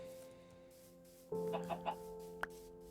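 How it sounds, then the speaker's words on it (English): Clucking from chickens in the game Minecraft: a few short, fairly close bursts over a quiet background, followed by one sharp click. "lot of chickens around here, actually"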